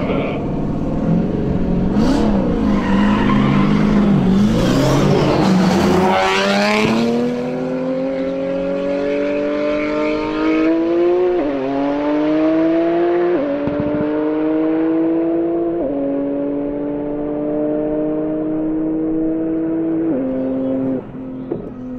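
A TX2K19 drag racing car launches down the track. The engine roars loudly up through the rev range with distinct gear changes as each rising whine drops back and climbs again, then fades gradually into the distance.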